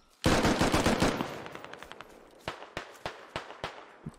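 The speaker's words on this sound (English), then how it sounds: "taking some shots at the infantry" Gunfire in the video game Squad: a rapid automatic burst of closely spaced shots, followed by slower single cracks and short volleys, loud and close with no talk over it.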